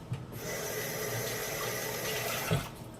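Water runs steadily from a kitchen tap while celery stalks are washed, a continuous rushing flow with a couple of soft knocks at the start and near the end.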